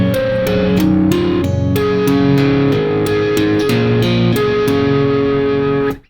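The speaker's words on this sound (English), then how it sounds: "let me play the first part of the riff for you" A guitar, with effects and distortion, plays the first part of a riff: a quick, rhythmic run of picked notes and ringing tones, loud and steady until it cuts off at the end.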